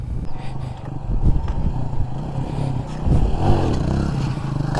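Motorcycle engine with throttle blips and revving during a wheelie stunt training session in Salem, loud and close, with clatter and scraping from the bike throughout.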